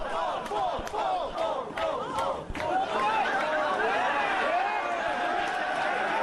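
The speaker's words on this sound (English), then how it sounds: "Listen to this crowd." Roaring crowd at a Canadian pro wrestling match, loud chanting and yelling swelling and dipping in waves, with a sharp burst midway before the noise builds again and holds.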